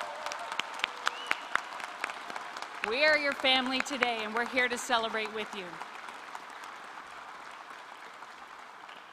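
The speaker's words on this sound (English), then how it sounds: "let's give one round of applause" Crowd applause rolls through a 2024 NBCC Moncton graduation ceremony, with a speaker's voice running over the clapping midway before it tapers off.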